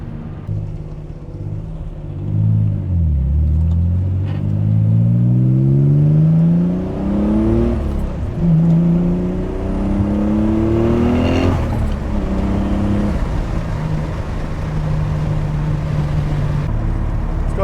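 A Nissan 300ZX twin turbo accelerates hard through several gears with dumped wastegates, the engine rising in repeated loud sweeps between shifts while tires struggle for grip, then settles into steadier cruising.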